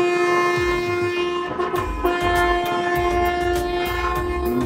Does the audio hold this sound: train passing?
yes